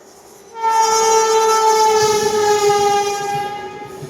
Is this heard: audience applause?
no